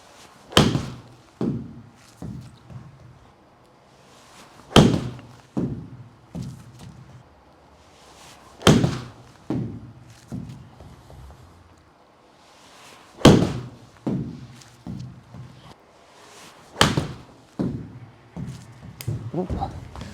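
A golf wedge hits full shots: five crisp, sharp ball strikes land about four seconds apart, with softer thuds and shuffles in between.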